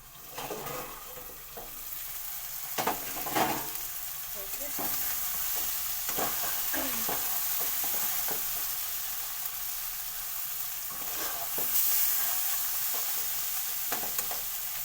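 Ash gourd curry with prawns being stirred in a pan after cooking covered, with steady soft sizzling and repeated scraping strokes of a spoon, moderately close, no talking.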